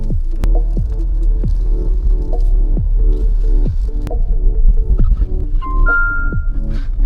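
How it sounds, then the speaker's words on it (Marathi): Jeep Compass seat belt reminder chime sounding inside the cabin, a steady series of evenly spaced ringing tones over a low engine hum, fairly close and clear. "की तुम्ही सीट बेल्ट लावला नसेल तर हा असा आवाज येतो"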